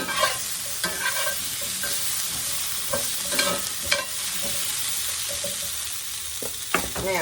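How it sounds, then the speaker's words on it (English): A spoon stirs ranch seasoning into mayonnaise and sour cream in a bowl. It makes close, wet scraping and swishing strokes with a few sharper clinks against the bowl, and nobody speaks. "there's our ranch stirred into our mayo and our sour cream"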